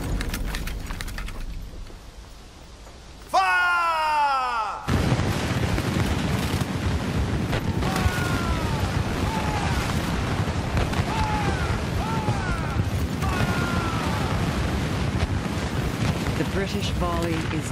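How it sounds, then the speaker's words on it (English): Sound design for the 1759 Battle of Quebec places a sudden, loud volley of British musket fire after a quieter opening, followed by continuous rumbling battle noise and scattered shouting voices. "A mile-wide burst of concentrated fire."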